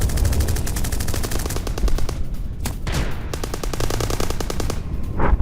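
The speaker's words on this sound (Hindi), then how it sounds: "रूसी सेना यूक्रेनी जवानों में आमने सामने की फायरिंग की एक तस्वीर देखिए।" Battle gunfire from Russian and Ukrainian troops exchanging fire, loud, rapid machine-gun bursts with sharp single shots in between, continuing throughout at close range.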